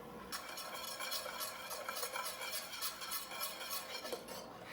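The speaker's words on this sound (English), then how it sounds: "I'm gonna whisk this all in, whisk this all together." Cherry chipotle glaze for a holiday ham being whisked in a pan, a quiet rapid rhythmic scraping and swishing of a whisk heard steadily without talk.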